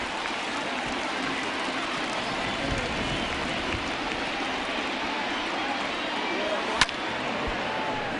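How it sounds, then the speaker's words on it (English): Steady, heavy rain pours down throughout a rainy ballgame in the MLB The Show 20 baseball video game, a dense continuous hiss with one sharp brief tick near the end. "Really starting to pour now, and the forecast is not showing any signs of a break in the weather"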